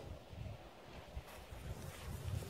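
Wind gusting across an outdoor orchard during apple tree planting, a low steady rumble of microphone buffeting that swells and eases over a couple of seconds, with no voices.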